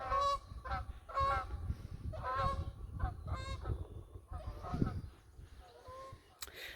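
Several geese honk loudly nearby in a run of repeated, nasal calls, one after another with short gaps.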